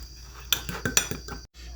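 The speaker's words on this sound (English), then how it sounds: "We're going to mix that up like a carbonara." A utensil clinks and scrapes against a bowl as egg yolk and Parmesan are mixed into a cream, several sharp taps in quick succession, fairly close, without speech.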